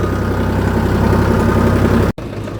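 A tractor with a punctured tyre, its engine idling in a steady, loud low rumble with a regular throb, then cutting off abruptly near the end.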